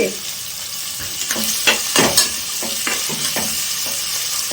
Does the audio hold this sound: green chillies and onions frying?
yes